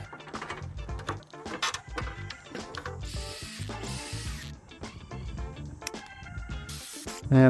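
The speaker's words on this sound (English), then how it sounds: "Just tighten these straps up." Ratchet straps are cranked tight on a pergola during an outdoor build, producing rapid, repeated clicking ratchet bursts with quick mechanical rattles, close by and irregular in rhythm over several seconds.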